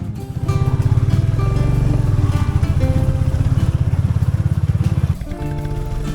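A motorcycle rides a rough off-road dirt track toward a hill fort village, its engine loud and close with a steady throbbing rhythm that briefly dips near the end.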